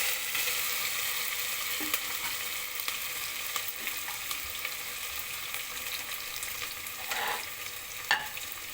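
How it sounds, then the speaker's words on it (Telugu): Steady, fairly quiet frying sizzle as paste and khichdi ingredients cook in oil, with occasional stirring scrapes and a couple of clearer utensil clicks near the end; no talking. "బాగా దోరగా వేయించుకోవాలి"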